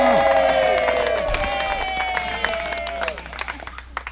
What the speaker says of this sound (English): Everyone yell or clap for Nigel.